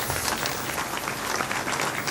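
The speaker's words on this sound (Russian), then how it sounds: "И вот мы видим, как их приветствуют аплодисментами." Representatives of Montenegro are welcomed with applause at a NATO round-table meeting: a brief, dense burst of many people clapping, fairly loud and continuous for about two seconds with no speech.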